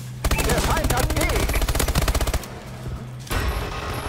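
Gunfire in a Call of Duty: Advanced Warfare multiplayer match on PS4 comes as loud, rapid automatic bursts of shots. It stops briefly, then a final burst follows.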